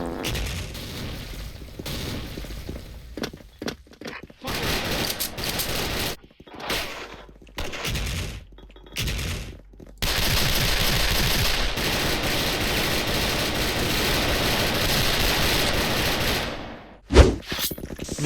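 Gunfire in the Special Force online shooter with German Luger pistols: scattered shots and short bursts, then a long sustained stretch of rapid firing, ending in a loud boom near the close.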